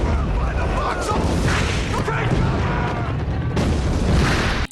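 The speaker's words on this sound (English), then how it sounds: "Seeing the bombs hit the snow and the trees" Bombs explode among snow-covered trees in the Band of Brothers war film, a dense, continuous barrage of heavy booms and rumbling blasts, loud and close throughout, with the soundtrack clipping sharply at the end.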